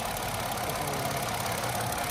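A running model engine with a small broken, knocking noise, a loud continuous rattling buzz with rapid pulsing and no pauses.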